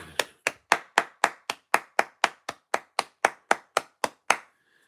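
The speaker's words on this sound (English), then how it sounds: "Let's give them the golf clap." A slow, polite golf clap during a live stock day-trading stream: about sixteen evenly spaced, crisp hand claps, close and clear, with no talking over them.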